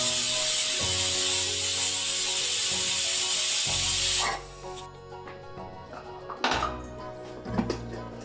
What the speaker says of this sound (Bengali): এরপর কুকারের ঢাকনা দিয়ে আটকে নরম হওয়া পর্যন্ত আমরা সিটি দেব।